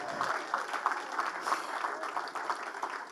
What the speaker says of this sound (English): Now that's going to get a round of applause